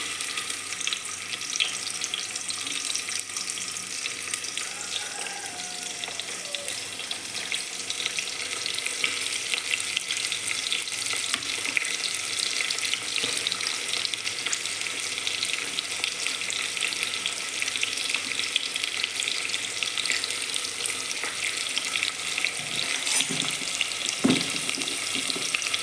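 Onions frying in hot coconut oil for a chicken curry make a continuous dense sizzle and crackle that stays steady and close throughout, with a faint stir near the end and no talking.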